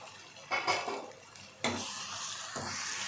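Chopped tomatoes are tipped into a hot frying pan while a crab gravy cooks, giving soft sizzling and stirring scrapes with a few sharper surges as the pieces land. The sounds are quiet and there is no talking.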